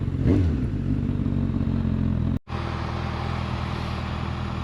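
Honda CB 1000 Hornet SP 2025 four-cylinder motorcycle being ridden, a steady loud engine drone with rushing wind, broken by a brief dropout midway.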